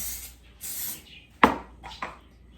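A few quick hisses of oil spray onto the tops of buffalo chicken bombs, then a sharp clack and some light clatter, close and otherwise quiet.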